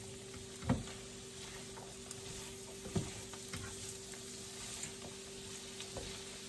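Refried beans being stirred in a pan, with soft scraping strokes at irregular intervals over a faint steady sizzle, fairly quiet and close with no talking.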